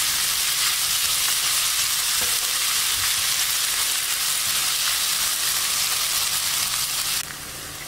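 A tempering for mango pulihora fries in a pan, making a loud, steady sizzle that crackles close up and continues unbroken before easing slightly at the end.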